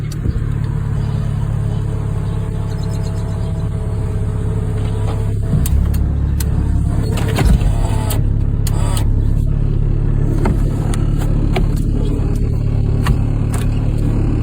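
A 1991 Toyota Celica GT Convertible engine running, a loud, steady low rumble with an even hum and a few faint clicks and knocks, close by and without clear revving.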